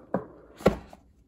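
Packaging of a refurbished Apple iPad Pro 11-inch with Magic Keyboard being opened: two sharp cardboard taps or snaps about half a second apart, then a softer click, close up in a quiet room.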